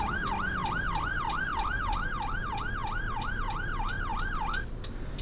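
A wailing emergency vehicle siren in the OMSI 2 bus simulator, sweeping up and down in a steady, fast cycle, loud and close throughout, then cutting off near the end.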